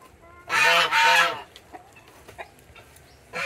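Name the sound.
bulik chicken breed clucking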